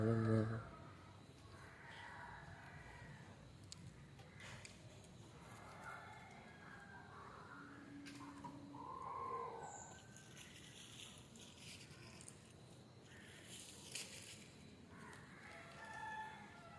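Native country chickens cluck and call around a farmyard coop, with a rooster-like crow rising at moments; people talk over the birds throughout.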